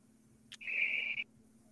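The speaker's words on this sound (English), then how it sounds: "I hear the birds." A single bird outdoors gives a faint short chirp followed by a sustained clear whistled note of about half a second, set against a quiet background hum.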